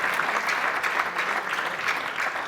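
A crowd clapping steadily to welcome Minister Dr. Damascene Bizimana at a gathering, with a full, even wash of applause that stays loud from start to finish.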